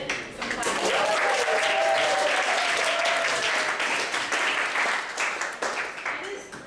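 An audience at an afternoon training session applauds steadily for several seconds, dense clapping filling the room with a faint voice rising briefly beneath it before the applause tapers off.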